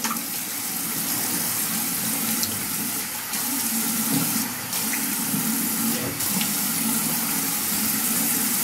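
Tap water runs steadily into a sink while a razor is rinsed after shaving, a close, continuous splashing stream with a few brief clinks and surges of flow, and no voices.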